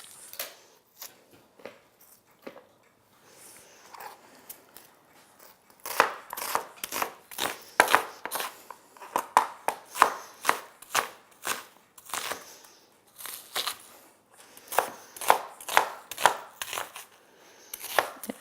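A sharp chef's knife chops red onions on a cutting board, giving quick, crisp, close taps in irregular bursts that get louder and denser partway through, with no talking.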